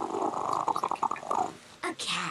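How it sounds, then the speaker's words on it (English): A cat purring in the I Spy Spooky Mansion video game, a soft rhythmic purr in short pulses followed by a brief meow-like cry, with talk nearby. "A cat."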